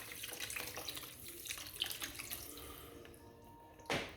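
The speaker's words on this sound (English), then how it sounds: "we're just going to add 2 cups of 500 mils of beef stock" Beef stock is poured into a cooking pot as a steady, close liquid trickle and splash, ending with a brief louder splash.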